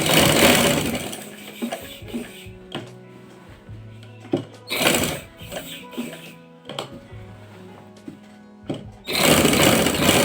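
A sewing machine stitches a salwar in several loud, close bursts of rapid whirring, separated by quieter pauses with faint handling sounds.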